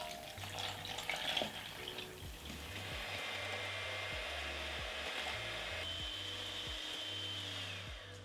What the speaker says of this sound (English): start using my hand mixer to get this incorporated